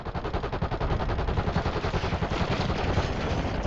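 Rapid bursts of gunfire in the Warzone video game, a dense, loud run of repeated shots from a sniper position, continuous across the whole stretch with no talk.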